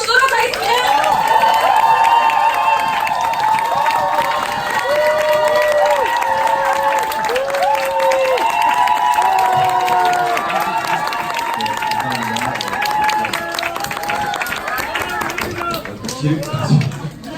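A meeting audience gives loud applause and cheers to welcome a speaker, a dense, sustained wash of clapping with music-like tones and voices mixed in.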